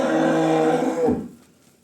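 One long, loud moo from a jet-black Girlendo cow offered for sale in Punjab, Pakistan, close by and fading out at the end, with no talk over it.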